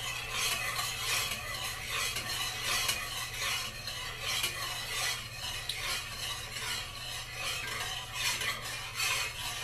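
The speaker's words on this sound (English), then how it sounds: "we're just going to carefully mix them together. Stirring it." Lye and oil being stirred together by hand for soap: a continuous, rhythmic swishing scrape that carries on steadily throughout over a low, constant hum, with no voices.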